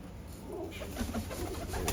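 Pigeons coo softly in low, rolling calls over a faint background hum, close by.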